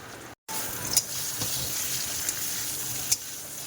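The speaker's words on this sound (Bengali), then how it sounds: "পটল ভাজা হয়ে গেছে" Pointed gourd (potol) pieces frying in a pan give a steady, close sizzle throughout, broken by a brief silent gap near the start and a few sharp clinks or scrapes.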